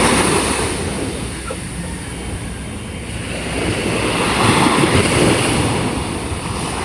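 Sea waves wash onto the shore at sunset, a steady broad hiss with slow surges building and easing, mixed with wind buffeting the microphone and no voices.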